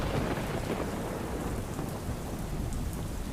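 Heavy rain pours steadily over Amreli in Gujarat, a dense continuous wash of falling water without pause, with no voices.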